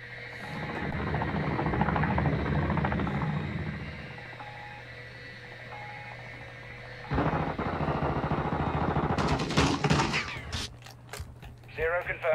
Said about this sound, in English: Deploying bomb drone.